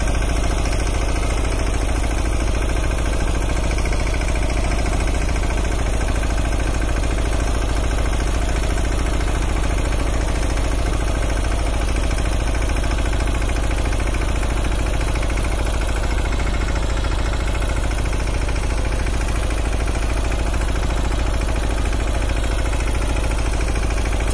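A Mahindra Yuvraj 215 small tractor engine runs with a rotavator attached, a steady loud mid-pitched chugging idle that holds constant throughout with no talk.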